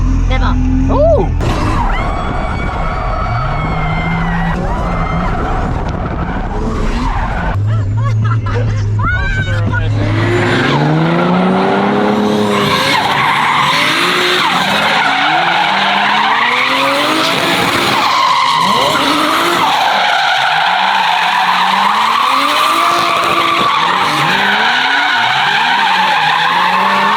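A drift car skids hard with long, shifting tire squeals and a loud, constantly straining engine that rises and falls, heard from on board through the whole stretch; occasional voices surface beneath the noise.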